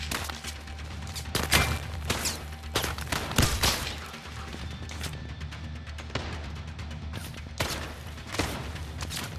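Gunfire from the VR shooter Zero Caliber, a string of sharp shots and bursts spread across the clip, loud and close over a busy game background.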